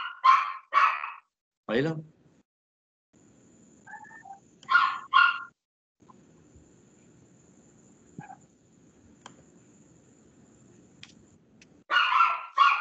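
A small dog barks indoors during an online class call, letting out a few short, sharp yaps in separate bursts that are close and fairly loud, with quiet room noise between them.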